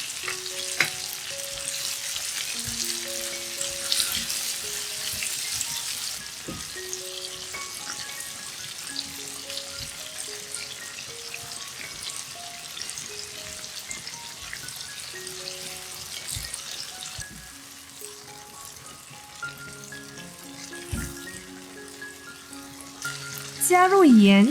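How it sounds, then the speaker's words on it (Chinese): Peeled tomatoes, added after small tomatoes, are stir-fried in a hot pan for a vegan tomato sauce, giving a steady close sizzle broken by repeated spatula scrapes and knocks against the pan. "炒至番茄出汁。"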